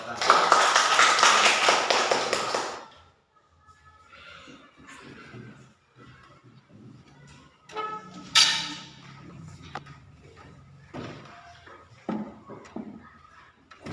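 Classroom students at an elementary school burst into loud, dense applause for the first group after its presentation, then the clapping stops abruptly and a teacher's voice and quieter classroom sounds follow.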